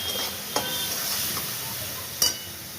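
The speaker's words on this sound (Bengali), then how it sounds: "আর এতে আন্দাজ মতো অল্প চিনি দিয়ে আমি নাড়ছি, ভাজা ভাজা মশলাটা কষছি" Spice paste (masala) with a little sugar, for potol chingri, sizzles and fries steadily in a pan, with a couple of sharp scraping strokes of stirring against the pan.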